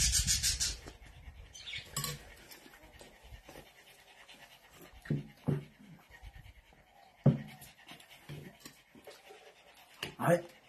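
Dogs pant in quick rhythmic breaths near a water bucket outdoors, with scattered clatter and a few louder bursts between them.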